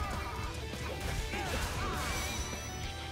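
A heavy head-smash blow from the Transformers Devastation video game hits amid dense, loud combat effects and a music bed, with a voice briefly audible in the mix.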